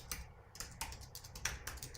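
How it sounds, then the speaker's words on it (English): Fingers type on a computer keyboard in quick, uneven bursts of soft clicks, roughly eight keystroke clusters in two seconds, quiet and close with no talk. "which I'm typing in the live chat right now"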